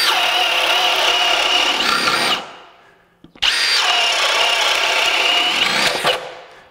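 A Milwaukee M18 FUEL 2906-20 1/2-inch hammer drill bores through dimensional lumber, with a loud, steady high-pitched whine in two long runs separated by a brief pause, each ending as the motor winds down.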